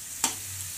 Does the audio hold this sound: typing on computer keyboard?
no